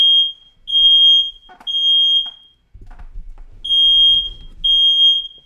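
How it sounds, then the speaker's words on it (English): A household smoke detector sounds off in loud, piercing high-pitched beeps in a repeating pattern, with a short gap of low rumbling and faint background noise between bursts. "smoke detector's going off"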